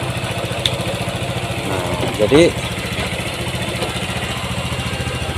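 A Honda Vario 150 scooter idles at low RPM, its steady mid-pitched engine putter running close and constant beneath someone talking over it.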